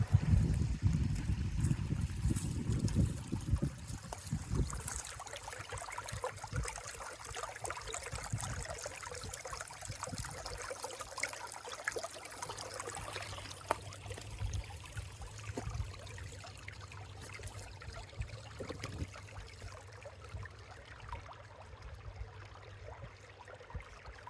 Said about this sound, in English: really pleasant little creek in here in the desert